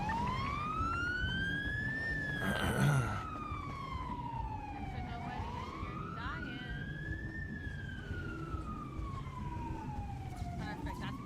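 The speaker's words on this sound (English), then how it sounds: "Siren check." A police car siren in GTA V roleplay wails in slow rising and falling sweeps, loud and close, with a brief burst of noise near the start and faint background game ambience.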